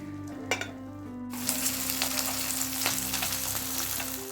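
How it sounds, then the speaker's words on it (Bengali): Katla fish tail fries in mustard oil with a steady, close sizzle that swells after the first second, while a low hum runs underneath. "কাতলা মাছের লাজা ভাজা হয়ে গেছে এই মাছটা তুলে আরেকটা লাজা ভেজে নেবো"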